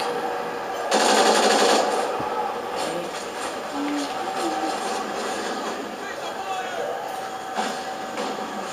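Automatic machine gun fire in the Call of Duty Ghosts multiplayer game, a loud sustained burst near the start followed by quieter scattered gunfire and game noise, with players talking over it.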